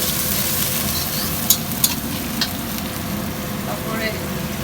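Ginger and garlic paste sizzle steadily in a hot pan as the base of a Bengali ridge gourd, potato and rohu fish curry, with a constant hiss and a few faint clinks of a utensil.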